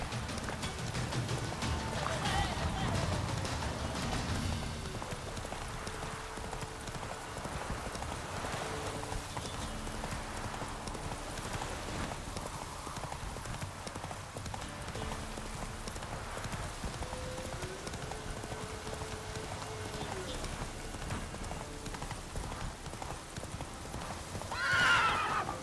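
A horse in the video game Witcher 3 gallops with rapid, rhythmic hoof clip-clops over a long stretch, interrupted by a few whinnies and ending on a louder snort or neigh.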